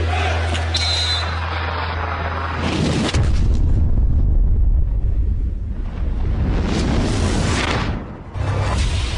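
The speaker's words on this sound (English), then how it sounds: "A nuclear attack on London. In bomb terms, the blast was relatively small" Dramatized nuclear bomb blast over London: a deep rumbling boom with roaring, wind-like noise that swells, fades, then surges again.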